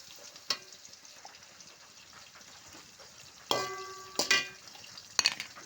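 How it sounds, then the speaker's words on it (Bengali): Green chilies and chopped onion frying in oil, a faint low sizzle punctuated by a few sharp spattering pops. "দিয়ে দিচ্ছি তেল, তারপরে দিয়ে দিচ্ছি কাঁচামরিচ, পেঁয়াজ কুচি, কাঁচামরিচ কাটা,"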